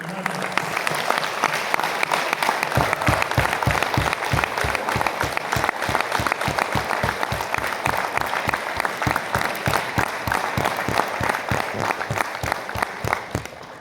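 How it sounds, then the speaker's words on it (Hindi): Seminar audience applauding an FX trader, first a dense wash of clapping that turns into loud, rhythmic unison claps beating steadily for several seconds, with crowd noise throughout. "हमारे ब्रिलियंट एफएक्स ट्रेडर के लिए दिल से, एकदम दिल से, इधर से ताली बजाइए।"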